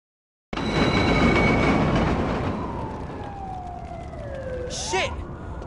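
Train from the video game The Warriors, a loud, broad rumble that starts abruptly and holds steady with squealing metallic tones and a brief siren-like wail near the end.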